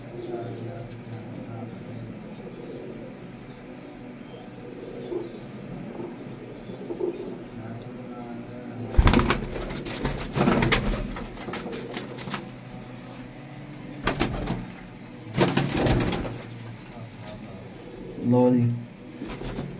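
Pigeons coo softly in a loft, then bursts of wing flapping as birds take off, with a few further flutters and someone speaking in Punjabi-Hindi over the scene.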